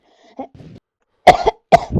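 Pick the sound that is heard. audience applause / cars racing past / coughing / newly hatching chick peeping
coughing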